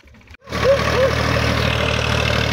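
A stopped tractor on a wheat field where seed and DAP fertilizer are being drilled starts up after a brief pause and settles into a steady, close, rumbling idle.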